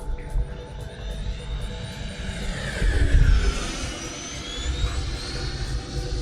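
A Horizon Hobby RC jet plane flying at mid-throttle in a climb, a loud whining engine roar that swells and shifts in pitch as the aircraft passes nearby, then steadies, with no voices.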